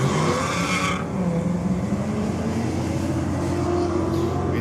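A drag racing car at Sydney Dragway during a comp night, a loud sustained engine roar with rising pitch as it accelerates, with tyre noise and a rough, heavy rumble underneath.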